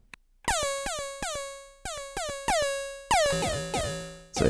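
Oscillator 2 of a Behringer EDGE synthesizer with frequency modulation, a series of bright, buzzy, horn-like repeated notes with sharp attacks and decaying tails, played alone in an irregular rhythm.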